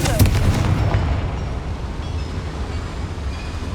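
The Confringo spell explodes in Hogwarts Legacy inside a mine, a loud booming blast that fades into a long rumbling roar.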